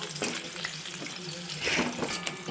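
Twelve or thirteen curry leaves frying crisp in hot oil while making a puffed-rice chevdo, with a steady close sizzle and crackle and a brief louder burst of spattering partway through.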